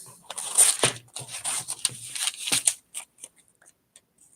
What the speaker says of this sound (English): Get out my scissors.